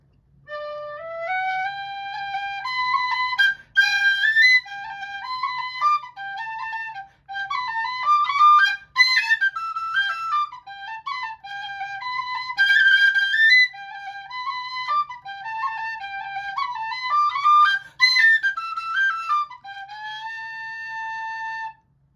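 The Legacy jig played on a €5.50 tin whistle, lively bouncing runs of clear, bright notes in phrases separated by short breaths, close and unaccompanied.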